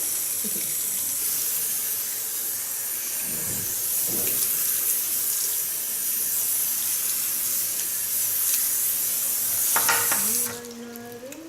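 Water runs steadily and loudly from a salon shower head while hair is washed, a continuous close spray with slight shifts as it moves over the hair, then cuts off near the end.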